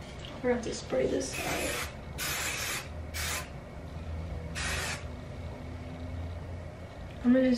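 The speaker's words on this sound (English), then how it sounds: "I'm gonna have to spray this." Several sharp hissing spray bursts from a spray bottle, spaced irregularly, close up, with faint rustling between them.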